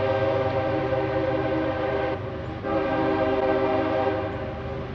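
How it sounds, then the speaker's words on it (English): A train rumbles past close by, a loud steady roar of wheels and cars that holds for several seconds, dips briefly, then surges again with a sustained tonal drone. "there's a train going by right now"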